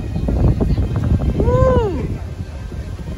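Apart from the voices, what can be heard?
wind noise on microphone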